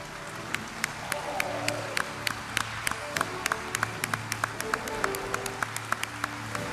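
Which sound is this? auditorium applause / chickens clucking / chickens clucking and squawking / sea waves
auditorium applause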